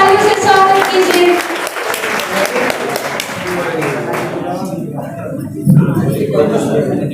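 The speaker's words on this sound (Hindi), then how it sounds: "जोरदार तालियों से स्वागत कीजिए" Applause welcoming a speaker to the stage at a Teachers' Day ceremony, a dense burst of clapping that gradually thins out, with a voice beginning to talk toward the end.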